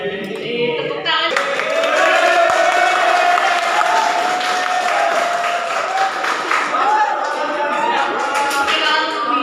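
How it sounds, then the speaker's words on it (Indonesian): A classroom audience bursts into sustained applause, many hands clapping loudly and continuously for several seconds, with voices mixed into the noise. "Tepuk tangan."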